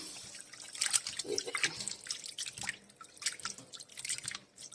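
Water is poured and splashed to rinse flour off raw liver in a kitchen, a continuous irregular trickling and dripping at moderate distance, fairly quiet, with no voices.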